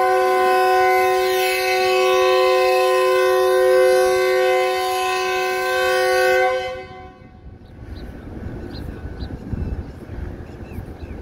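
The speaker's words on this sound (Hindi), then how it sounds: "फरीद एक्सप्रेस का डिपार्चर हो जाए" The Farid Express departs with a long, loud, steady train horn blast lasting several seconds, which then cuts off and leaves rumbling rail noise and the roll of the train close by.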